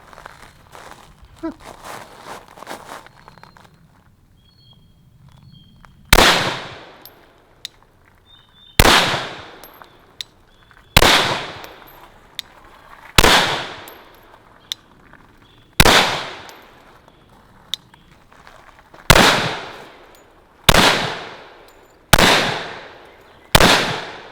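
Glock pistols in 9mm and .40 fire single shots at a 5-yard range, about nine loud, sharp reports spaced roughly two to three seconds apart, each ringing briefly, with light handling noise before the first shot.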